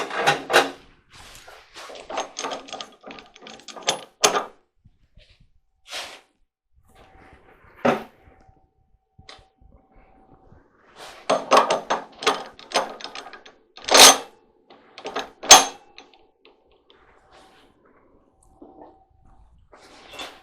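Wooden knocks and metal clicks as lathe chuck jaws are removed and pin jaws fitted for woodturning, in irregular bursts of clatter separated by quiet pauses, close by with no talking.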